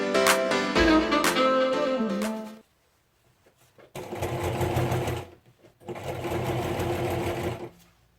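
A sewing machine stitches a zipper onto a jacket in three loud bursts of steady running motor and needle chatter, separated by short pauses.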